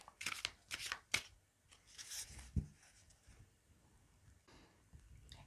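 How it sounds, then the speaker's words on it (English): Tarot cards are riffled and shuffled in a few quick bursts, soft papery flutters separated by short pauses, close and quiet. "Let me shuffle the cards quickly."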